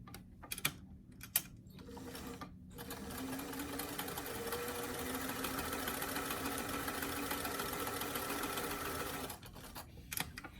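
A sewing machine runs a long, even straight stitch at a long stitch length along a doll t-shirt sleeve. A few sharp clicks come before and after the steady motor whir, which lasts several seconds near and clear.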